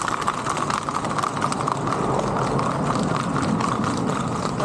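A horse trots steadily at a paso fino trail ride in Yauco, Puerto Rico, its hooves beating a fast, even clip-clop, loud and close over a broad noisy background.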